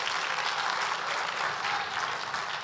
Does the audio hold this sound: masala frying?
no